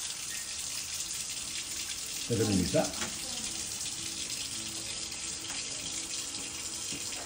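A kitchen or bathroom tap runs with a steady hiss of flowing water for the whole stretch, with a brief splashing burst partway through as something interrupts the stream; a person speaks softly nearby.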